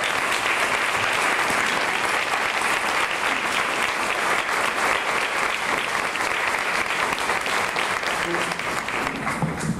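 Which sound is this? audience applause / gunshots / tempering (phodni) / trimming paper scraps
audience applause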